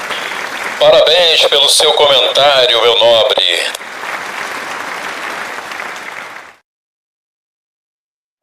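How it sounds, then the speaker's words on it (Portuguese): Applause from an audience rises under a voice in Portuguese, steady clapping continuing for several seconds after he stops and then ending suddenly. "aqui uma salva de palmas pela atitude da Tove"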